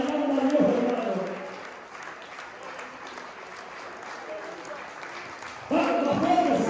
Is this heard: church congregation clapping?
yes